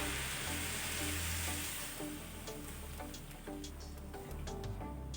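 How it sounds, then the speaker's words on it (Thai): Pork ribs frying with bean paste in a hot pan as water is poured in, giving a steady loud sizzle and bubbling with light stirring clicks, no voices. "พอเราผัดเครื่องปรุงหอมได้ที่นะคะ เราก็เติมน้ำลงไปค่ะ"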